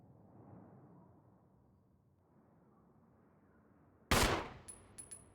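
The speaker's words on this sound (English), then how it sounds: "I'm trying to shoot the can down." A gunshot in Resident Evil fired at a can, one sharp loud crack after a stretch of quiet ambience, followed by a couple of short metallic clicks and clinks.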